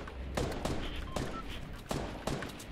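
Gunfire in Fortnite, a series of separate sharp shots spaced roughly every half second over a busy, noisy game background.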